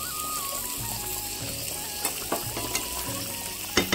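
Prawns hit a frying pan of yam curry, raising a continuous close-up sizzle with a few clinking stirs and scraping touches near the end.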